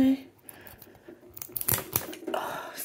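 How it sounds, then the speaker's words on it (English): Scissors working under the edge of a plastic Pokéball tin, with a few sharp snips and scraping clicks that get busier toward the end, close up, amid light handling noise. "Let's get the scissors in under that."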